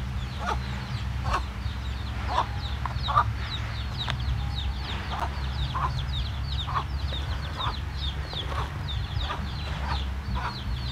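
Backyard chickens cluck in a steady scatter of short calls over a constant low hum, fairly close, continuing without pause and with no voices.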